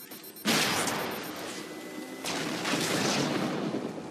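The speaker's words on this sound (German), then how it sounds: "Oh, Granate." A grenade goes off in the video game Halo 4 with a sudden loud burst, followed by a rumbling roar and a second blast amid continuous game noise, no speech heard.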